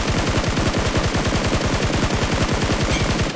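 Rapid automatic gunfire in PUBG Mobile, loud and close, firing in a fast, even rhythm of sharp shots for the whole stretch, with no talking.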